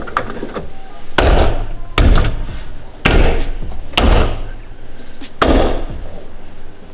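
Headliner rail clips are hammered into place inside a camper, heard as five loud, sharp bangs spaced about a second apart, with quieter handling noises between them.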